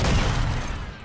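A grenade blast in the Warzone shooter game, a single loud boom at the start that rolls off into a fading rumble over about a second.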